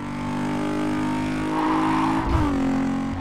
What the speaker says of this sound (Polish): samochody brzmią bardzo, bardzo ładnie. Posłuchajcie sobie.